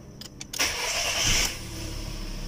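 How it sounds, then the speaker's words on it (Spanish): A Volkswagen Vento cranks with a short whirring starter burst, catches and roars briefly, then settles into a steady close idle, heard alone without talk. "Vamos a echar a andar el carro."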